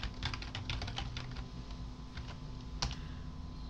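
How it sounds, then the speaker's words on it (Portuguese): Rapid clicking keystrokes on a computer keyboard while entering code, a quick burst followed by sparser taps and one sharper key hit, close over a steady low hum, no talking. "eu posso digitar isso aqui assim"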